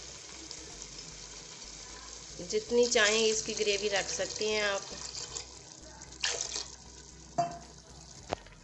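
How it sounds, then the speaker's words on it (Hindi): Water is poured into frying chickpea shorba gravy in a hot pan, giving a sizzling, bubbling surge that fades as someone speaks Hindi over it. "अब इसमें मैं थोड़ा सा पानी ऐड करूँगी,"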